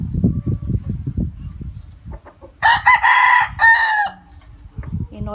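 Pet chickens clucking in low, repeated bursts close by, then a rooster lets out a loud, full crow in the middle before the clucking picks up again.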